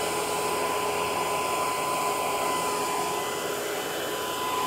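A server-fan hovercraft runs with a loud, steady high-pitched whine and airy roar, an unbroken mechanical drone with a clear tonal hum throughout and no talking.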